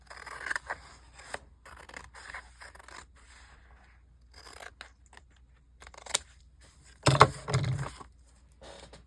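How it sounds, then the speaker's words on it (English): Close scissors trimming the edge of a journal page make a series of short crisp snips and paper scrapes, with a louder cluster near the end and quiet gaps between. "I have to trim the edge here."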